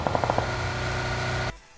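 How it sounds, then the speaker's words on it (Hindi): A short burst of rapid gunfire in the video game PUBG, a few quick shots then a sustained rattling roar that cuts off abruptly. "आते ही मुझे यहाँ पे गोली चलने की आवाज आती है।"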